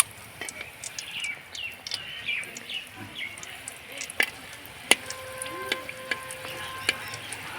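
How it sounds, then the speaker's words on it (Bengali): Phuljhuri pitha fries in oil over low heat while a spoon holds the petals and splashes hot oil over them: a steady soft sizzle with sharp metallic spoon clicks and taps against the pan, close by. "একদিকে কিন্তু তেলটা এইভাবে করে ছিটিয়ে দিতে হবে"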